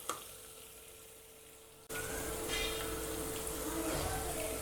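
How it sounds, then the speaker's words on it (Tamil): Raw mango pieces frying in hot oil with onion and ginger-garlic paste for mango biryani, a loud steady sizzle starting abruptly partway through and continuing to the end, with faint stirring. "மாங்காய் எண்ணெயிலே கொஞ்சம் வதங்கட்டும்."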